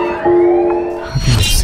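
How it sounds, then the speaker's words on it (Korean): A police siren sounds briefly inside a subway train as a loud, steady wailing tone, then gives way to rumbling noise from its surroundings. "일촉즉발의 순간 웬 경찰 사이렌이 지하철 내부에 울려 퍼지죠."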